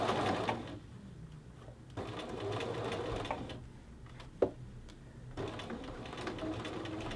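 Sewing machine stitching a men's shirt collar band, running in several short bursts separated by brief pauses, close and moderately loud, with a sharp click near the middle.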